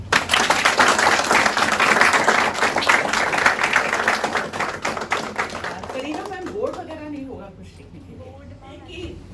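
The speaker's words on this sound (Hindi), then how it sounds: "फिर से एक बार अपने लिए ताली" An audience applauds with dense, even clapping for the first several seconds, then it fades while a voice speaks over the tail.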